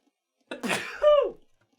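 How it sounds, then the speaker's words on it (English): A single close sneeze, a sharp breathy burst followed by a brief voiced trailing tail, alone in silence. "I had to sneeze."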